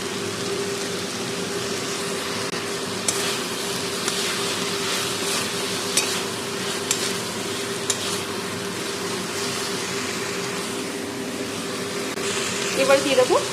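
Fried prawns are stirred into simmering fenugreek greens in a pan, a continuous soft sizzle and bubbling with occasional spatula taps, a steady low hum underneath and a few clatters at the end.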